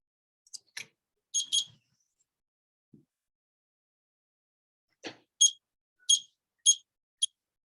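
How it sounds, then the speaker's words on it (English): A new timer alarm gives short sharp electronic beeps in two bursts, a few at first and then a run of four or five after a pause, clear and close in a quiet room. "I have a new timer. I'm trying it out."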